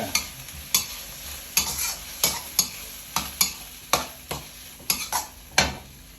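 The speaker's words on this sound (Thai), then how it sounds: "แล้วคนให้เข้ากันเลย" Ingredients stirred together in a sizzling frying pan, about a dozen crisp scraping knocks of a utensil against the pan at an irregular rhythm over a low background sizzle.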